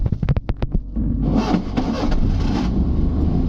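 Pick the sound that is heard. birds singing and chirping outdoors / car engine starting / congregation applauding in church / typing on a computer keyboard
car engine starting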